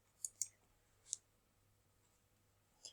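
Mouse clicks while selecting Projects in KashFlow accounting software, a few sharp, quiet, close clicks spread irregularly over a near-silent background.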